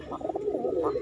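Pigeons coo softly and continuously at a pigeon sale in Delhi, a low warbling murmur of several birds close by.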